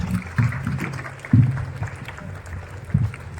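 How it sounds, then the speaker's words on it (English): At a school year-ending ceremony, an audience gives a scattered round of applause for a house team, moderate and uneven, with a few louder bursts of claps and thumps. "Give a big round of applause for their dedication and team spirit."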